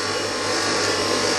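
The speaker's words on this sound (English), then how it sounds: "vacuum pump you can hear" A vacuum pump runs steadily in a home workshop, giving a close, continuous mechanical drone with a low electrical hum beneath and no pauses.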